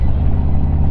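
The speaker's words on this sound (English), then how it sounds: "We got trucks stopping." A brief burst of low truck engine rumble from trucks stopping on a highway in Florida, loud and close, with no voices.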